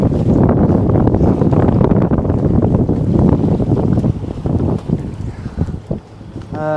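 Sailboat genoa being unfurled on the starboard side in about ten knots of wind, loud rushing wind buffeting the microphone with flapping, rustling sailcloth and boat noise throughout.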